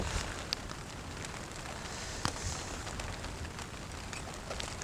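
Steady rain falling on a vegetable field during a July harvest of green peppers and round eggplants, a soft continuous patter with occasional sharper drops, fairly faint.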